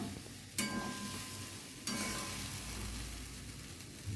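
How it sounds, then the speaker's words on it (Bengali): Spice paste for Kashmiri aloo dum fries in a pan, a soft steady sizzle with two sharper bursts as the masala is stirred and pressed, fairly quiet and without voices. "ভালো করে একটু কষে নিই মশলাটা"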